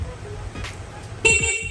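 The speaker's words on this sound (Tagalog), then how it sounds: "Ayan, busina, stock horn." The stock horn of a Honda Click V3 scooter gives one short, loud, close honk near the end. Someone talks briefly just before it.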